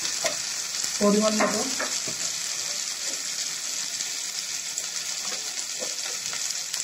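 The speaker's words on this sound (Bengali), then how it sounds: "এটাকে ভালো করে কষি" Chicken sautés in a pan with dried chili paste and turmeric, a steady close sizzle with stirring scrapes near the start, as someone says a few words.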